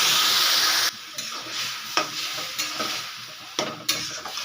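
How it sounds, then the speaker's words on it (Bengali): Spice paste sautéed in a pan for moong dal with finely cut bottle gourd: steady loud frying hiss, dropping after a second into a quieter sizzle broken by repeated scraping stirs. "এবারে আমি মশলাটাকে ভালো করে কষিয়ে নেব।"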